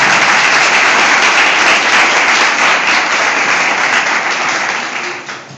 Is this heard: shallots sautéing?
no